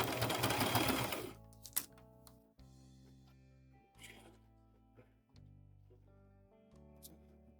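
A sewing machine back-stitches elastic for mini scrunchies, with a loud fast whirring run at the start, then short clicks and bursts as the stitching reverses and goes forward again, close and clear.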